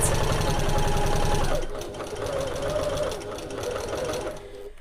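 A sewing machine stitches a fabric bag pocket with a rapid, steady mechanical chatter close by, loudest at first, then easing into a lighter, slightly quieter run.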